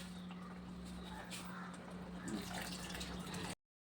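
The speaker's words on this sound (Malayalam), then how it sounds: "ഈ വെള്ളം ഒഴിച്ച് കൊടുക്കാം" Tamarind water pours into a pan in a steady, quiet stream, with a soft splashing trickle throughout before it cuts off.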